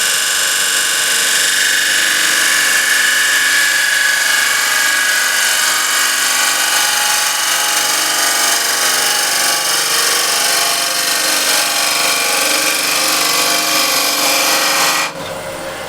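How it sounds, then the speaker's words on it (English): A bowl gouge takes a long, sweeping final cut across a spinning wooden bowl on a lathe, giving a loud, steady rushing scrape that holds unbroken for about fifteen seconds before stopping abruptly. "What I want to do now is make a nice final cut going all the way down in one swooping motion."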